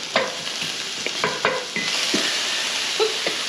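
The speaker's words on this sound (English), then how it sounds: "sauteed peppers and onions? We'll get those cooking." Peppers and onions sautéing in a pan, a steady close sizzle broken by sharp clinks and scrapes of a utensil stirring against the pan, with no talking.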